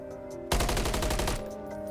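A loud burst of rapid automatic gunfire in Call of Duty MW3, a first-person shooter, lasting under a second, rising sharply out of quiet game ambience and then dropping back to it.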